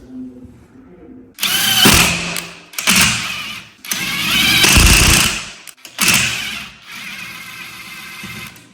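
A power drill drives a screw while installing a shower enclosure, whirring in several bursts of varying length, close and loud, with short pauses between runs.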